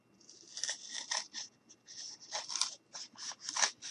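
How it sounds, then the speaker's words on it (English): Scissors snipping through a thin piece of soft wood for a small craft cottage, a quick series of close, crisp crunching cuts in an irregular rhythm with no talking. "I am going to go ahead and take my scissors, and I'm just going to cut."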